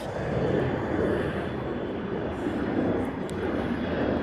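An airliner departing LAX under a low cloud layer produces a steady, moderately loud jet roar that holds constant throughout, distant rather than overhead, with no talking.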